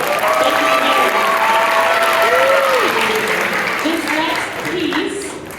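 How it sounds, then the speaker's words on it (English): Steady audience applause fills a middle school midwinter concert hall, loud and sustained for several seconds before tapering slightly, with faint voices and tonal sounds mixed in. "So give him a round of applause."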